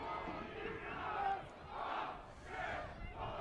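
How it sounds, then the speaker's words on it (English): Football crowd cheering in the grandstand at a Preston Lions FC vs Melbourne Knights FC match, a faint distant roar swelling and fading in waves. "The cheer goes up for the grandstand."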